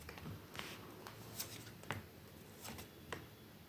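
Soft, close riffling and tapping of a tarot card deck being shuffled, a series of quick light flicks and snaps at a quiet level.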